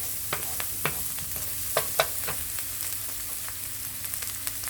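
Food browns in a frying pan while making mushroom soup, giving a continuous close sizzle punctuated by a handful of sharp utensil clicks and scrapes from stirring, with no voices.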